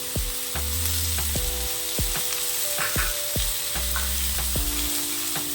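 Mutton sambar masala with tomato and ginger frying in a pan, a steady close sizzle with repeated stirring scrapes and taps at a regular pace, no voices.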